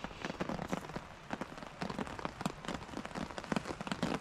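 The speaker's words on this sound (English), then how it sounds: "Still pouring the rain now." Heavy rain pours down on a hammock camp in a forest, a dense steady patter with sharper drips striking the tarp close by, and no voices.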